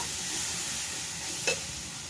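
River fish drops into a pan of fried ginger-cumin spice paste, setting off a steady hiss of sizzling with a short louder burst midway, heard close and alone without talk.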